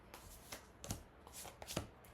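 Soft, close riffling and slapping of tarot cards being shuffled and drawn, a few quick papery bursts at an uneven pace in a quiet room.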